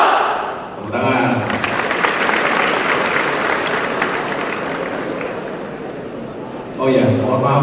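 Graduation ceremony audience at a transport college breaks into sustained, dense applause after a man's short cue, with his voice coming back over the tail of the clapping.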